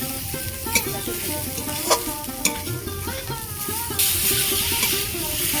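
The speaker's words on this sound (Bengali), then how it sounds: "বেগুন আমি ভালো করে ভেজে নিয়েছি" Brinjal fries with onion, chilli and garlic in a pan under a steady hiss and sizzle, with a few sharp spatula scrapes. A tonal hum or music sits faintly underneath.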